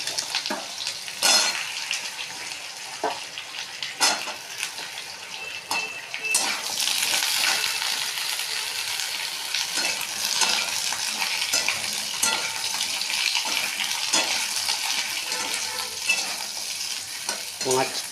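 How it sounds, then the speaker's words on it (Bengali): Potatoes frying in a wok with salt while fish curry with nigella seeds is made, giving a steady, close sizzle with repeated scraping and stirring clatters all the way through, and no talking. "নুন দিয়ে আলুটাকে ভালো করে ভাজলাম"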